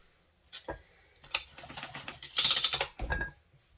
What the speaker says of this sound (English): It's good, nice heavy proper torque wrench for this.